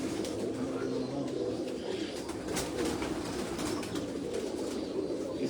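A flock of pigeons keeps up a dense, low cooing on a rooftop, the soft rolling calls overlapping without pause at close range.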